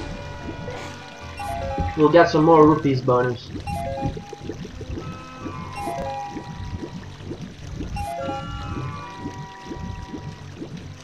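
Link swims and splashes through water in The Legend of Zelda: Ocarina of Time, with short pouring and trickling sounds under game music and someone talking.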